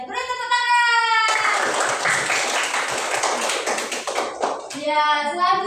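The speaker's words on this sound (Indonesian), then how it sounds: "Beri tepuk tangan." A classroom of students clapping in response to the teacher during a science lesson, a burst of lively applause of about three and a half seconds, framed by an adult voice speaking before and after.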